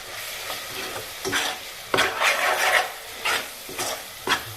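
Spices and coriander frying in a pan while being stirred, a close, loud sizzle with repeated scraping strokes of the spoon at an uneven rhythm.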